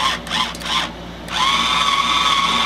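A battery-powered driver tool whirs steadily while disassembling a Gold Star bluegrass banjo, a brief rising motor whine followed by a sustained close, even buzz.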